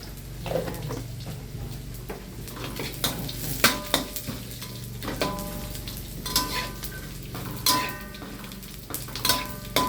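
Dried shrimp frying in a wok, steady sizzling under frequent scraping and clinking stirs of a metal utensil against the pan, close and fairly loud, with no voices.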